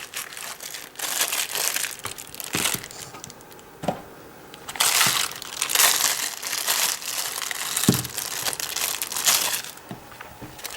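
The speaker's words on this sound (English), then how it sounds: "So let me go ahead and just unbox it for you." A Walther Pro FBK fixed blade knife comes out of its box, with continuous close cardboard and plastic crinkling, crumpling and rustling plus a few sharp cracks and taps, and no talking.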